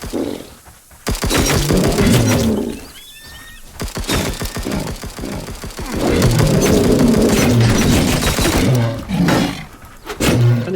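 Rocket turrets in Dysmantle firing in rapid repeated volleys, loud crackling bursts with booming impacts and roaring blasts that pause briefly and then resume, close and intense throughout.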